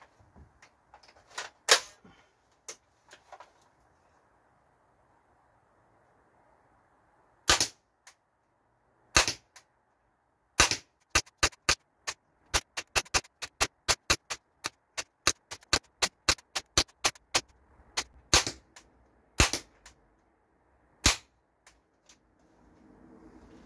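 Umarex HK416 A5 air rifle firing about 30 shots into a target, sharp snapping cracks, scattered at first and then in quick irregular bursts, close and with no talk.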